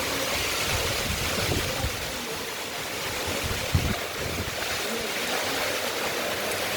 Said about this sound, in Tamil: நல்லா காற்று அடிக்குது